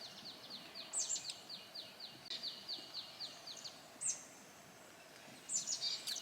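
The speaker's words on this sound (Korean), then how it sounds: "새소리 엄청 많이 들리죠." Birds sing in the mountains around a quiet campsite, giving repeated high trills and sharp chirps at moderate distance over faint ambient hiss, with no talking.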